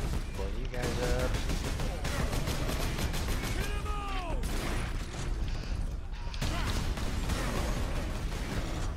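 Miniature rocket weapon firing in Warhammer 40k Space Marine, repeated booming bursts and explosions mixed with mechanical clatter and other game effects, under talking voices.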